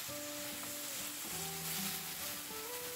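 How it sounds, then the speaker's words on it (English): Chopped vegetables for an Italian-style meatloaf cook down in a pan on high heat, giving a steady close sizzle with faint stirring under a constant hiss. "So you can see this is on a relatively high heat, just so that this becomes a little bit mushy and cooked down."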